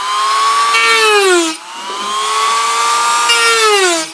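A power tool cuts a hole through a plastic ice chest, a loud high whining drone that sags in pitch under load, briefly drops off midway, then resumes steadily, close up with no talk.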